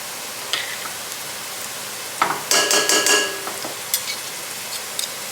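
Softened onions, crushed spices and garlic sauté in a pan under a quiet background hiss, broken by scattered utensil taps and one louder burst of stirring and clattering.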